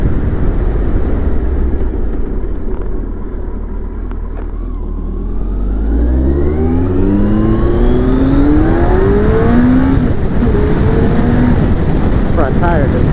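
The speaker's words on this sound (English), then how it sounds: "Just kind of touch the throttle and it goes." A motorcycle accelerates hard through the gears on an Alaska ride, the engine note climbing in pitch, dropping at a shift, then rising again loudly up close, with wind noise throughout.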